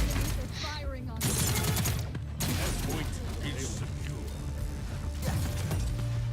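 Enemy gunfire in the game Paladins, a dense stretch of rapid shots and crashes that carries on almost without pause, with speech-like game chatter and effects mixed in.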